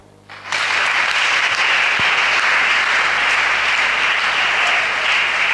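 Steady, dense applause from a large church congregation starts abruptly after a brief quiet moment and continues loudly without letting up.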